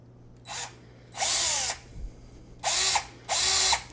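A power drill bores into an iPhone 7 casing to fit a headphone jack, whining in four separate bursts of increasing length with short pauses between, close and loud over a faint steady hum.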